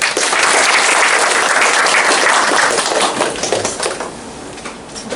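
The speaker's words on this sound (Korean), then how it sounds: "이어서 우리 김혜영 본부장님 나오셔서 사례 소개해 주실게요. 박수로 한번." An audience gives loud, sustained applause to welcome a speaker, with dense clapping that stays full for several seconds and then thins out and fades toward the end.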